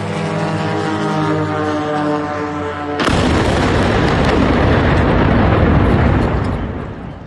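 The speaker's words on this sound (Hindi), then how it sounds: "जबरदस्त धमाका हो गया।" A loud, sudden blast from a suicide drone striking an oil refinery in daylight, bursting in about three seconds in and followed by a long, heavy rumble that fills the rest of the clip.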